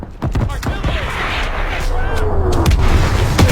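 Artillery fire in the World War II game Call of Duty: WWII, set in the Hürtgen Forest battle, with heavy booming blasts and a rolling rumble continuing throughout, and shouted voices over the barrage.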